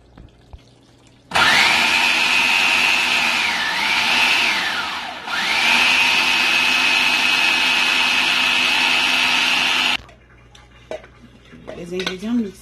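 An electric blender crushes tomato and chili peppers for an Ivorian palm-nut sauce, a loud whining motor held for about nine seconds with a brief dip in pitch midway, then cutting off to quieter kitchen sounds.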